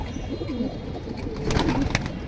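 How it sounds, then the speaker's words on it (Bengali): Caged pigeons, mostly of the Jirawala breed, in a collection kept for sale, coo softly nearby in low, rolling, repeated calls. A brief brighter rustle comes toward the end. "বেশিরভাগই জিরাওয়ালা কবুতর"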